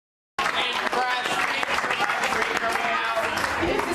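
Applause from a crowd at a political press event, starting abruptly and continuing as dense, sustained clapping, with voices talking underneath.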